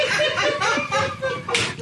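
A sharp slap lands in a radio show studio, a quick smack heard among overlapping voices and some laughter.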